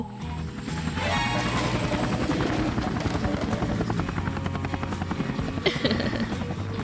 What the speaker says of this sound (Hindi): हेलीकॉप्टर लॉन्च करो।